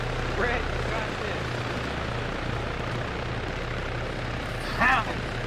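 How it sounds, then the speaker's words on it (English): A steady helicopter drone with rotor chop runs throughout, under faint game noises and a couple of brief voice bursts, in an Arma military game session. "get away from that helicopter."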